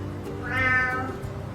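A pet cat meows once, a single drawn-out, rising-and-falling call that swells in the middle, close and clear over a low room hum with no talking.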